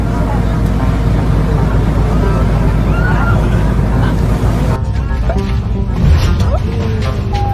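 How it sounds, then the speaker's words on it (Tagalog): Big waves strike a fast passenger craft off Oriental Mindoro, heard from inside the cabin as a constant loud roar of engine and water with dull thuds against the windows, under a voice talking. "Kita ang hampas ng alon sa mga bintana nito"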